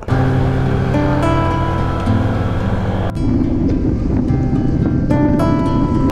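A motorcycle engine while riding on a forest road, a loud continuous rumbling drone with wind buffeting the microphone, steady throughout with a sudden shift in tone midway.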